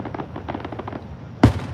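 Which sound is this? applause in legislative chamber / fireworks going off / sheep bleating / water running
fireworks going off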